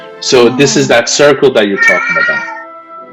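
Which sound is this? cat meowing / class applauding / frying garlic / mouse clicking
cat meowing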